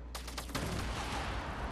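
Fortnite Battle Royale gunfire: a loud rapid string of close shots in the first half-second, then a dense roaring wash of continued firing and blasts carrying on to the end, with no voices.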